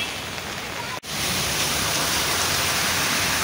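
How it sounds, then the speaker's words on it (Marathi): Heavy monsoon rain pours down steadily in Mumbai's Nepean Sea Road area, a dense, close hiss that drops out for an instant before resuming at full strength. "एरियामध्ये पावसाचा जोर कायम आहे"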